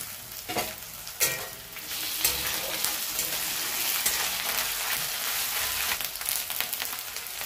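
Onions with salt and ginger paste fry and sizzle steadily in a pan for chicken biryani, with scraping stirs near the start and a continuous loud crackling hiss throughout.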